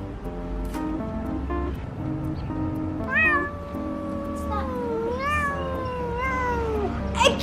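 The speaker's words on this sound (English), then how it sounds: "A kitty cat?" A cat meows several times in rising, drawn-out cries over a steady background hum, fairly close and clear.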